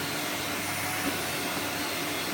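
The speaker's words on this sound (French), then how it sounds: "Elle adore l'aspirateur." A vacuum cleaner is used to groom a pet's fur. It gives a loud, steady, close whooshing drone with a slight flutter and no voices.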